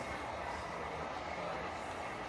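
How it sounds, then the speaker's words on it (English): A Greater Anglia passenger train pulls out of Stowmarket station at speed, giving a steady, faint rushing rumble of wheels and motors that carries throughout from a distance. No one speaks. "there goes the 11:48 Great Anglia service to Norwich. Leaving at quite an alarming rate."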